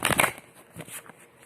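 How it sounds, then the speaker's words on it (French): Oracle cards being shuffled and drawn by hand, heard as a quick papery flurry of riffling at first, then a few soft, faint card slides. "Je vais tirer une carte complémentaire"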